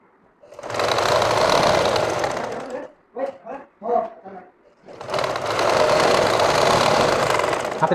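A sewing machine stitches thick rubber elastic onto a pajama leg in two long, loud, steady runs of rapid needle clatter, with someone talking briefly in the pause between them.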